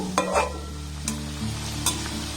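Bengali date pithas frying in oil and being turned in the pan: a steady close sizzle with a few soft utensil scrapes and taps, a low hum underneath, no speech.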